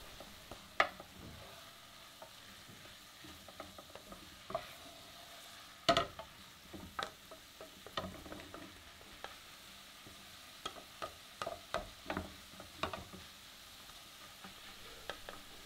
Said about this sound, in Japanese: この水滴をもう一度鍋に戻して、またじっくりと玉ねぎに火を入れていきます。